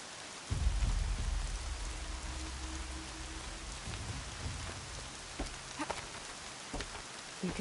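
Rain in the video game Horizon Zero Dawn pours steadily as a hiss over a surface, with a low rumble of thunder early on and scattered drops tapping near.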